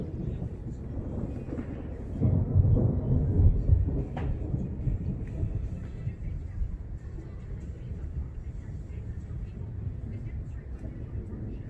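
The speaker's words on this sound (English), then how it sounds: "And some thunder." Thunder from a non-severe thunderstorm rolls low and heavy, swelling in a deep rumble partway through before fading into a steady background murmur of wind and rain.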